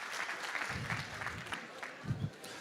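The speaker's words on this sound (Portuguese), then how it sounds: "Uma salva de palmas para vocês." An audience claps at a business seminar talk, a short, fairly soft patter of applause with voices murmuring underneath.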